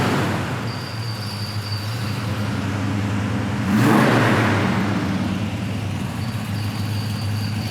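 A stock 350 V8 in a black 1972 Chevy Chevelle Malibu runs with a steady, close rumble and a brief swell of whooshing noise midway.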